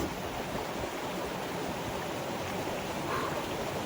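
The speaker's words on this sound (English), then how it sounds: "That's the waterfall there" Steady rushing water of the Suoi Mo waterfall near Da Nang, Vietnam, a constant, even roar heard from a short distance with no talk over it.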